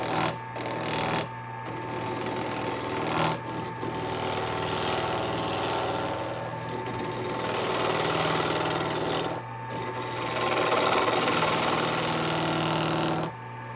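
A wood lathe spins steadily while a skew chisel cuts a small lidded box, giving a continuous whirring hum with rough scraping cut noise that swells and eases as the tool works.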